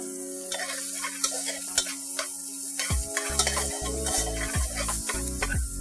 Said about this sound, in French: On met les échalotes dans l'huile bien chaude.